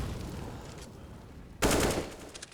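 Gunfire from a wall bang in Counter-Strike on the Nuke map, a rapid burst of shots cracking out after a quieter stretch of muffled game noise, with no voices over it.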